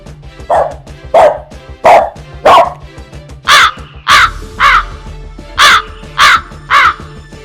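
A crow caws loudly and repeatedly, about ten harsh calls in a regular rhythm, close by, with faint background hum.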